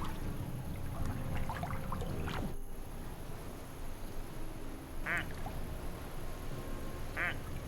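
Rubber ducks quacking in the Placid Plastic Duck Simulator video game, a few short nasal quacks spaced apart over a steady watery ambient bed.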